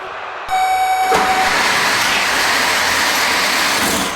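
Wooden pinewood derby cars at a district race, released from the start gate and rolling fast down a track, a sustained loud rumbling roar after a brief tonal starting signal, steady to the end.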